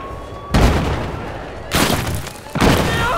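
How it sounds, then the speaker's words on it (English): Grenade blasts in the video game Battlefield 4, three loud booming bursts at roughly one-second intervals, each cutting in sharply and rumbling off, with background game noise between them. "No, that's a grenade!"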